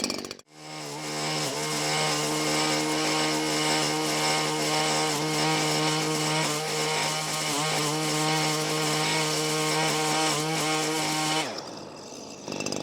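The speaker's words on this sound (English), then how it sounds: "Let's go over there and start trimming." A Stihl commercial straight-shaft string trimmer runs loud and close at a steady high-revving whine with slight dips as it trims, then cuts off abruptly at the end.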